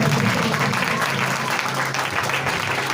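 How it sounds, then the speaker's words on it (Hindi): Church congregation applauding at a Sunday service to welcome the senior pastor, a steady, dense wash of clapping held at an even level throughout, with faint voices mixed underneath. "आज के वॉइस को आपकी भरपूर ताली की गूंज में सीनियर पास्टर आरब को वेलकम करते हैं।"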